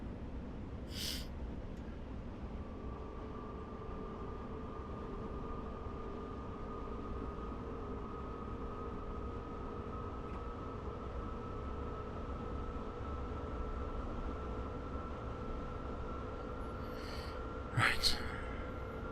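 A BR442 Talent 2 electric train accelerating toward 160 km/h in Train Simulator on the Berlin–Leipzig line, with a steady rumbling cab drone and a sustained whine, and a brief clunk near the end.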